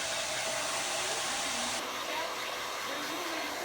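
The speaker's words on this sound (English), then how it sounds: "Now you can see that we are drying my roots" A hair dryer blows steadily at close range over bleached hair roots in a salon, a loud continuous whoosh that shifts slightly in tone partway through, with no talking.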